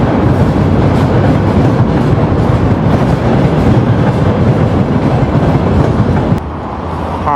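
Freight train rolling steadily past on a multi-track railway in Russia, a loud continuous rumble with rhythmic wheel clatter that eases slightly near the end.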